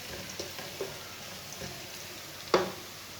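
Crushed garlic frying in a pan makes a faint, steady sizzle, broken by a few soft clicks and one sharper spatter near the end; no voices.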